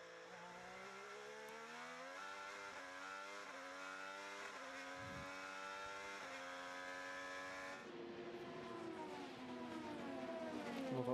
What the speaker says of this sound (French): On entend bien aussi la différence de bruit depuis qu'on a mis l'hybridation sur ces voitures